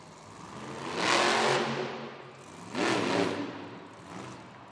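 A monster truck engine at a Monster Jam freestyle event in Oakland roars in two long revving surges a couple of seconds apart, loud and rising then falling, with a fainter third swell near the end.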